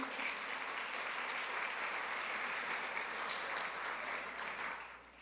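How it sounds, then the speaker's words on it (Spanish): A church congregation applauds together in sustained, dense clapping that fills the room at even loudness before thinning out and fading in the last second. "¿Cuánto le damos un aplauso al Señor?"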